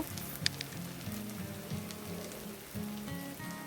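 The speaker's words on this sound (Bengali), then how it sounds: "মিনিট দুয়েকের জন্য পেঁয়াজটাকে এই হাই ফ্লেমে চিকেনের সাথে একটু নেড়ে নিতে হবে" Chicken and onion sizzling in a pan over a high flame while being stir-fried for Hyderabadi chicken dry, a steady close crackling hiss with small pops and no talk.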